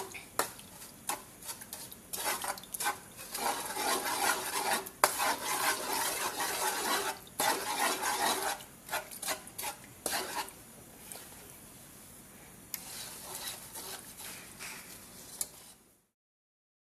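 A spoon stirs sugar melting in oil in a pot while cooking Lao fried noodles, giving irregular scraping and clinking against the metal over a faint sizzle, quieter for a stretch before stopping.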